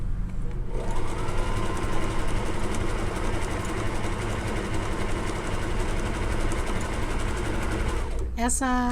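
A sewing machine runs in one steady, loud, continuous stitching burst while a bag is made, then stops abruptly near the end.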